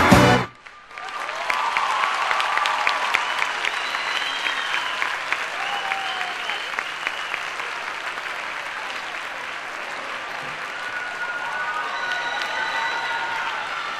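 Crowd applause and cheering at a drag queen gala in Corralejo, starting with a sharp burst then a steady roar of clapping that holds throughout, with whistles and shouts rising above it.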